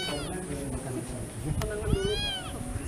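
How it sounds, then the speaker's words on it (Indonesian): A small cat found at a hillside cafe meows twice nearby, with rising and falling cries separated by a pause, while people talk softly around it. "Ada kucing."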